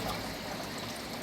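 Water flowing steadily in a small indoor garden creek with grasses and turtles, a soft continuous trickle, close and even throughout.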